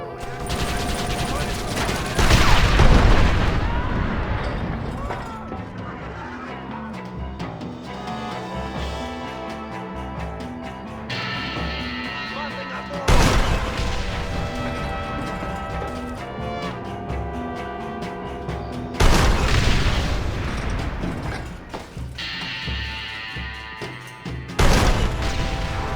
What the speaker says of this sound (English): Hurry, Tom, use the cannon.